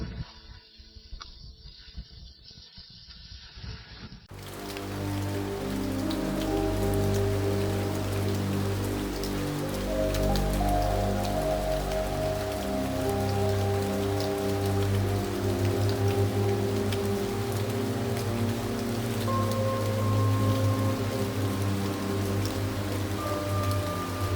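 Steady rain falls in a dubbed Indonesian drama scene. After a few seconds of quieter, muffled sound, a dense, continuous hiss of rain on a surface begins and carries on evenly to the end.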